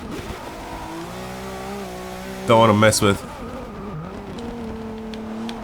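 A front-wheel-drive Le Mans race car engine in the video game Forza Motorsport 6 whines and revs under a voice, with a brief loud burst of high-revving engine noise midway.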